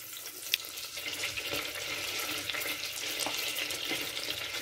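About three tablespoons of butter melt in a pan for a cheese sauce, giving a soft, continuous crackling sizzle with occasional faint pops, quiet and steady throughout.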